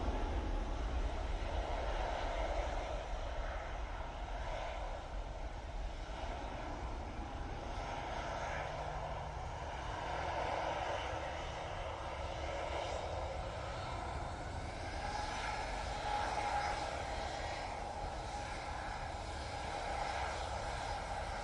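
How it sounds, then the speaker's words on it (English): An Airbus A321neo departs Manchester Airport, its engines a broad, steady roar heard from a distance, holding level and rumbling throughout with no speech. "A321 Neo now departing off to London"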